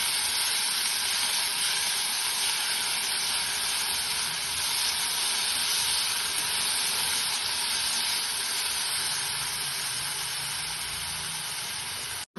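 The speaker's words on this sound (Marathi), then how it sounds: "त्यामध्ये ही चिरलेली शेपू घालून चांगलं परतून घ्यायचं" Chopped dill leaves sautéing with browned onion in a pan give off a steady, even sizzle and hiss that runs unbroken, close and loud, with no talking.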